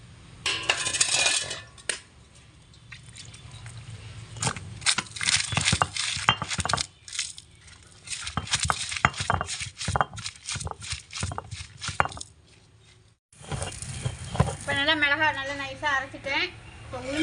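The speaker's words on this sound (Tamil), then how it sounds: "இப்போ சுண்டைக்காய் துவையில் அரைச்சிடுவோமா" Sundakkai thuvaiyal with asafoetida is ground by hand on an ammi grinding stone: rhythmic scraping and clacking strokes of stone on stone, with someone talking between and over them.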